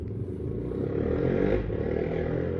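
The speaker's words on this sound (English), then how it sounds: "Oh, thank you, motorcycle." A motorcycle passes close by, its engine drone swelling to a peak midway and then easing off, with no talk over it.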